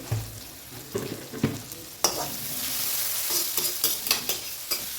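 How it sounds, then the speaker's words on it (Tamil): Tomatoes sauté in hot oil for a squid fish curry, a soft continuous sizzle broken by a string of clinking stirring strokes against the pan. "தக்காளி நல்லா வதங்குதுங்க"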